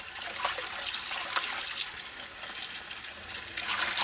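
Tap water runs into a basin filling for washing a human hair wig, a steady, faint splashing trickle with a few brighter spurts, alone with no talk.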